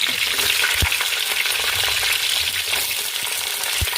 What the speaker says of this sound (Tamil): இது நல்லா எண்ணெயில் வதங்கிட்டுக்கலாம்